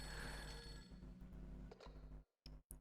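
A telephone rings in the Fatal Frame III horror video game, giving a few bright electronic trills over a low hum of game ambience before the rings break off.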